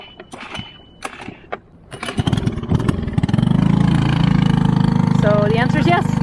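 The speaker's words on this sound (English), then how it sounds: "it's a bit far with our little engine that was just drenched in seawater" A small dinghy outboard engine that was just drenched in seawater starts on a boat. It catches after a few sputtering pulls and then runs at a loud, steady, close-up idle, with voices nearby.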